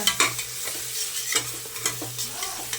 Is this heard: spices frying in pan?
yes